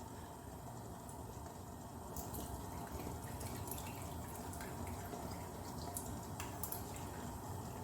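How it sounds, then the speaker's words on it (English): Tamarind water trickles and drips softly into a pan, faint splashes and patters scattered over a quiet background hum. "Now I'm going to pour in the tamarind water."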